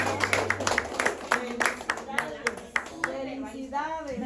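A small congregation claps for children celebrating their first communion, a scattered, uneven patter of hands under ongoing talk, with individual claps picked out against a voice that speaks over them throughout.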